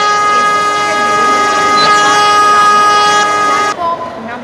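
Indian Railways AC Double Decker Superfast Express train in the Indian Train Simulator game, its horn a loud sustained multi-tone blast held steadily for nearly four seconds before cutting off abruptly, leaving lower rumbling train noise.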